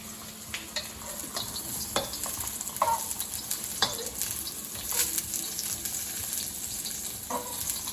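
Mushrooms fry in a pan with a constant crackling sizzle, punctuated by scattered pops and scraping clicks as they are flipped over.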